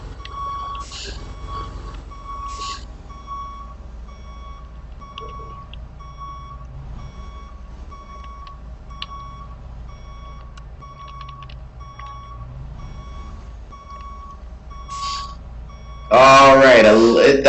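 A school bus in the Rigs of Rods driving game reverses into a parking spot, its backup alarm beeping in a steady, evenly spaced rhythm. A sudden loud burst of noise cuts in near the end.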